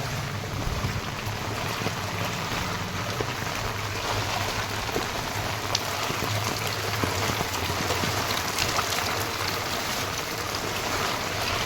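Constant rushing water and rain hiss, a broad wash of floodwater flowing across village fields under a downpour, steady throughout with no talking.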